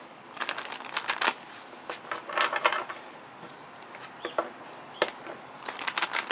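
Tarot cards are shuffled in short bursts of riffling and soft flicking, close by, with brief quiet gaps between the shuffles.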